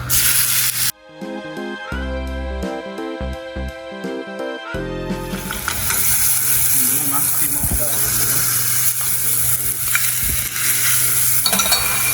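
Chopped onions sizzle steadily in a hot pan with occasional stirring scrapes, loud and close, after a short stretch of background music.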